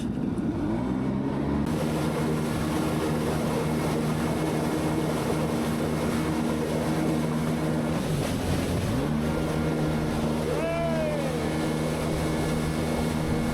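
A jet ski runs across a lake in Guatapé, Colombia, its engine a loud, continuous droning whine close by, with water rushing and splashing beneath it and the pitch briefly dipping and recovering partway through.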